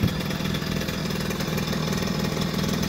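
A 2001–2009 Suzuki JR 50 motorcycle with a modified first gear, its small engine running with a steady buzzing drone at close range, loud and unbroken, no voices.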